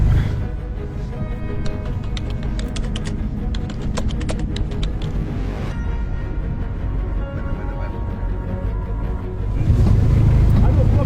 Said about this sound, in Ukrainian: Через воду треба буде їхати трошки.